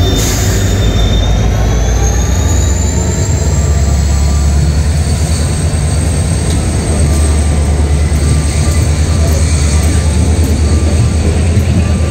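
The Sealdah Kanchanjunga Express rolls out of Agartala, a loud, close and continuous rumble of wheels on rails with sustained metallic squealing and high whining tones throughout.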